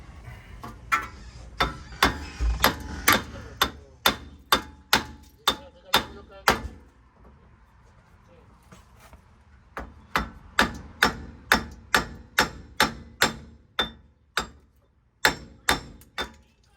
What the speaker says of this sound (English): Now we're gonna just hit this out of here with the hammer.